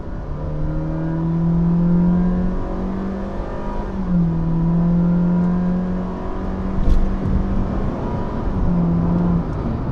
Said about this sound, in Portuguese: Eu vou tentar fazer uma reaceleração aqui agora, por exemplo. Tá 50, pé embaixo